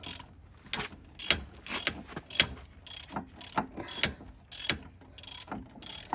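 A ratchet wrench tightens the strut bolts on a 2010 BMW 535i in a crisscross pattern, with close, sharp bursts of clicking pawl strokes in an uneven rhythm separated by short pauses, and no speech.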